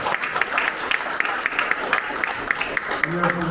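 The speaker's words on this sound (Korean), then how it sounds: "큰 박수 환영해 주시기" An audience at an election campaign committee closing ceremony in Incheon applauds, steady rhythmic clapping held at moderate volume under a low background murmur.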